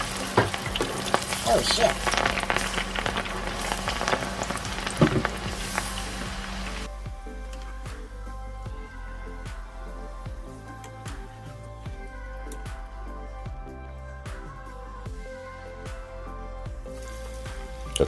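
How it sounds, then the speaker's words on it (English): Potatoes dropped into a hot deep fryer crackle and sizzle loudly and steadily, a dense frying roar that settles into a quieter, bubbling crackle with scattered pops, with someone speaking briefly. "These are going right into a hot fryer"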